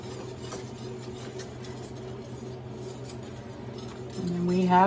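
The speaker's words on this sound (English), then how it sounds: "now we're going to slowly whisk this in" Carnivore gravy for roast beef whisked slowly in a pan: light metallic clinks and scrapes close up, with a voice briefly rising over them at the end.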